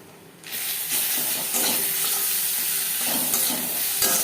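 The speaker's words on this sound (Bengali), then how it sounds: "নারকেলের সাথে বেশ ভালো করে মিক্স করে দেবো।" Moong dal with grated coconut and ginger–green chili paste being stirred in a hot pan, a steady close sizzle with scraping spoon strokes throughout, no talking.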